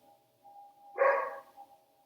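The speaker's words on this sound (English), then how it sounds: "Sorry about the barking" A single faint dog bark sounds once, short and somewhat distant, over a steady low electrical hum in an otherwise quiet room.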